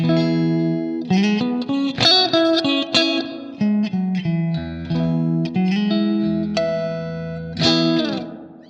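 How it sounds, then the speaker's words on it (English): An electric guitar playing notes and chords through a Blackstar St James amp plugin with natural hall reverb, a lingering reverb tail letting each phrase ring out into the space. "I think it's a really nice sounding reverb. It's natural sounding."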